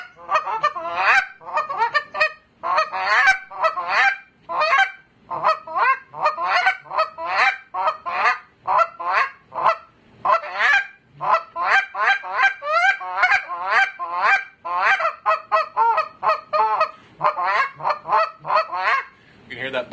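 Mr Big II goose call with a super thin reed blown in rapid, buzzy honking sequences, loud and close, with short pauses between bursts of clucks and honks.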